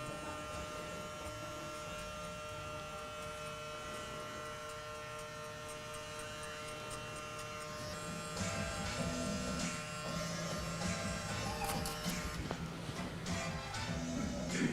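An electric hair clipper buzzes continuously while cutting hair in a barbershop, a close, steady motor drone that grows slightly louder and rougher partway through as the blade works through the hair.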